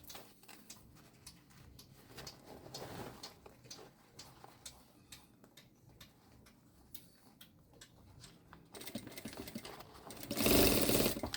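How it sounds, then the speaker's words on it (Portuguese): A sewing machine stitches all the way around a synthetic-leather backpack lining in quick, steady mechanical bursts with brief pauses, ending in a louder, faster run near the close; no one speaks. "E passa a costura em toda a volta."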